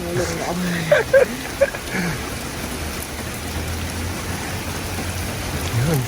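Rain falls on a parked camper van, a steady close hiss of drops on its surface, with a few louder patters early on and people talking now and then.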